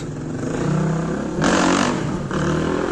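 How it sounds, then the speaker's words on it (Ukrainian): Motorcycles roar along an evening street in Mindelo, a steady engine drone that swells into a louder, harsher burst midway before settling back to a continuous rumble, with no voices. "Єдине, що мене бісить, це мотоцикли."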